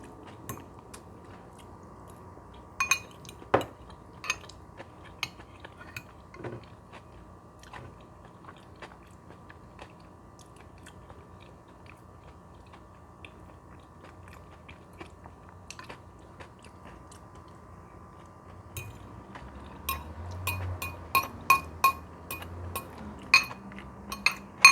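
Close bites and chewing of homemade potato salad, with light clinks of cutlery against a dish, quiet and sparse at first, then growing busier and crunchier toward the end.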